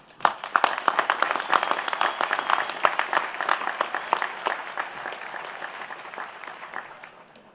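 A commencement audience applauds honorary doctorate recipients at a college ceremony, a large hall of steady, crisp clapping that swells quickly and tapers off toward the end.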